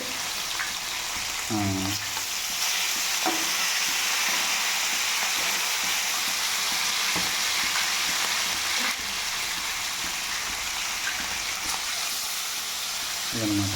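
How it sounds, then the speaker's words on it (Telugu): Fish fries in a hot pan Kumari aunty style, giving a steady crackling sizzle throughout with a few brief clunks and a short spoken word from a nearby voice. "బాగా ఎర్రగా వేయించుకోవాలి."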